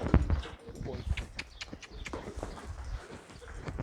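Hooves of a young colt wearing its first saddle, loping across the ground in a steady drumming beat, close by, with a voice talking over it at the start.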